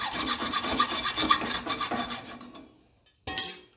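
A hacksaw cuts a metal part for a 1954 Ferguson TEF 20 diesel tractor, held in a vise, in quick, even, close rasping strokes that stop after a few seconds, followed by one short final burst.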